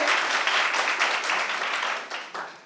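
An indoor crowd at an academic seminar claps for the guest speakers. The dense, steady applause from many hands holds for a couple of seconds, then thins and fades out.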